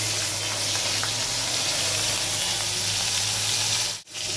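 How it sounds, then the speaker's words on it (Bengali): Black cumin and green chillies fry in a wok, producing a loud, continuous hissing sizzle up close that cuts off abruptly just before the end. "এবার কড়াইতে আমি ফার্স্টে কালো জিরে আর চিড়ে রাখা কাঁচা লঙ্কাগুলো দিয়ে দেবো"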